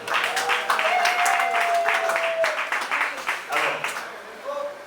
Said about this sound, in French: on peut acclamer pour la femme